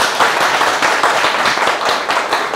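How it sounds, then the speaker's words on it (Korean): Audience applause at a university business school lecture with high school students, a dense, loud patter of many hands clapping steadily throughout the short stretch. "박수 안 쳐주셔도 됩니다."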